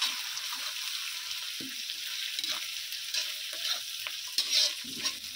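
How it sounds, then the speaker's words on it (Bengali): Garlic paste being stirred into golden fried onions in a pan for a chicken skin and legs curry, with a steady low sizzle of frying and scattered scraping and stirring sounds throughout, no voices. "এর মধ্যে আমি দিয়ে দিচ্ছি এবারে রসুন বাটা। রসুনটা একটু হালকা করে নেড়ে নেব।"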